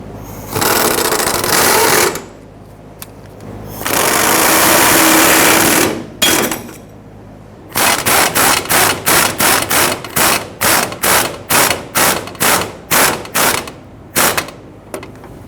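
A power tool tightens the fuel tank strap bolts on a 2005-2021 Nissan Frontier 4.0L V6: two long, loud whirring runs, then a quick rhythmic series of short mechanical bursts, close by with no talking.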